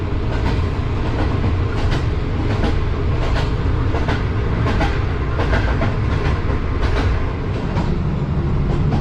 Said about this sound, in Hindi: ट्रेन ऑन टाइम निकल चुकी है रावलपिंडी से